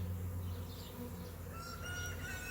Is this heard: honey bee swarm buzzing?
yes